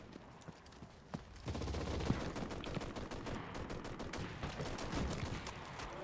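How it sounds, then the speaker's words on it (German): Machine gun fire in the World War II shooter Enlisted, single shots at first, then dense rapid bursts clattering at mid-distance amid a busy battlefield. "Unser MG, was hier schießt."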